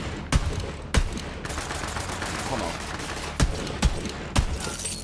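Gunfire in the video game Borderlands 3, with several sharp, loud shots spaced irregularly over a steady din of game noise and effects.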